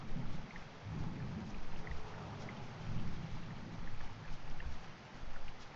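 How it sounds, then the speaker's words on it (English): Rain and thunder in the video game The Quiet Things, a steady hiss of rainfall with low rolling rumbles swelling and fading every second or so, no voices present. "So it's raining and we have this police car at the end of the bridge"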